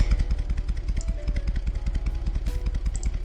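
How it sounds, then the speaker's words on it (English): A motorcycle engine in a video game gym scene, a steady rhythmic throbbing drone that stays fairly loud throughout with a pulsing, revving character. "I hear a motorcycle."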